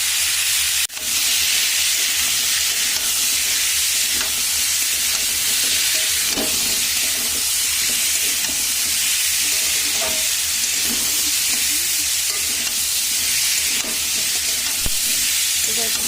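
Papaya and potato curry with salt and turmeric sautéing in a pan, a loud, continuous hiss of frying with occasional stirring scrapes throughout, close and steady with no speech.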